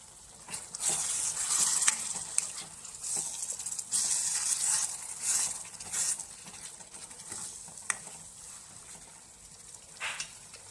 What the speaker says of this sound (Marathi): ग्रेव्हीला छान असं तेल सुटून देऊ ग्रेव्हीच्या वर आता तेल सुटलेलं आहे